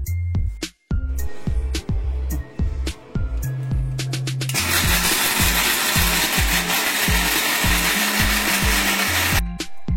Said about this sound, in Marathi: तर मी आता हे मिक्सरला बारीक करून घेते